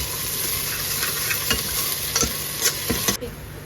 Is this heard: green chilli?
yes